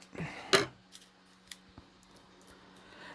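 Paper is cut with scissors: one sharp, close snip stands out early, followed by a few faint ticks and handling noises in a quiet room.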